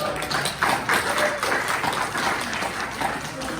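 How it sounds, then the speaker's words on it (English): Audience applause for a 90-year-old elder honored at a Black History Month gathering, a steady wash of clapping from a room of people, moderately loud and continuous with a few sharper bursts. "Let's clap for her."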